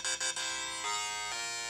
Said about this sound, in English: That's my text tone.